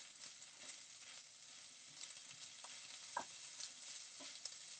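Onions sizzle softly in a pan with occasional scraping stirs, a steady quiet frying hiss broken by a few brief utensil knocks, close by with no talking.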